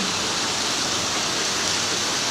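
Rain falls steadily in Korat, Thailand, a constant, even hiss that fills the whole moment with no breaks and no voices.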